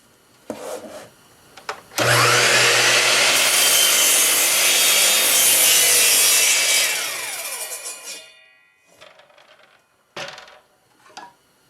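Bosch GCM12SD glide mitre saw slicing through a board in a single loud, sustained cut of about six seconds, the motor whine rising to full blade noise and then spinning down, with a few clicks and knocks before and after.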